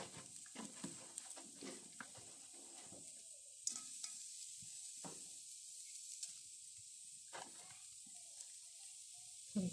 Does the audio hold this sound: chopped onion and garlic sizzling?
yes